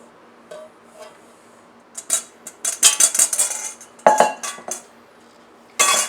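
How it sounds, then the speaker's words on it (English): A spoon clinks and scrapes against a mixing bowl while dry ingredients go into wet macaron batter, in a quiet kitchen with irregular bursts of tapping and knocks. "Now I'm going to incorporate the dry ingredients to the wet ingredients"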